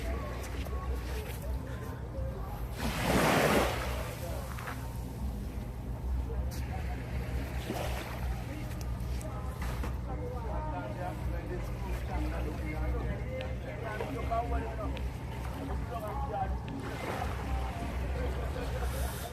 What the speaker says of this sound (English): driving this yacht 40 minutes on the ocean, fucking jumping big ass waves